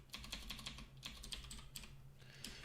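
Java code being typed on a computer keyboard, a quick, close run of light key clicks in irregular bursts with brief pauses, quiet and alone, with no talking.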